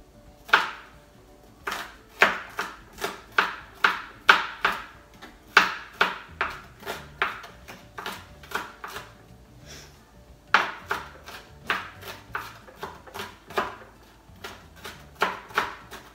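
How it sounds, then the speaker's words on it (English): A kitchen knife dices red onion finely on a cutting board, producing bursts of quick, crisp, evenly spaced chops separated by brief pauses, close and clear with no talking. "You want to dice them as fine as possible."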